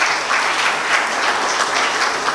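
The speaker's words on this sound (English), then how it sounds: "we need to give him a round of big applause" Steady, full-bodied applause from an audience at the FSM Goa maritime safety industry event, continuous and fairly loud throughout with no voices standing out.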